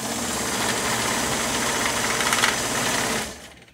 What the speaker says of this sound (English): It just sews a straight stitch.